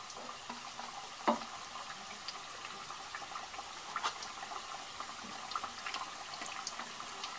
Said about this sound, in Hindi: इनको हम धीरे धीरे से रिफाइन में डालेंगे।